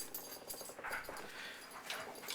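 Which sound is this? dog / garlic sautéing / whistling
dog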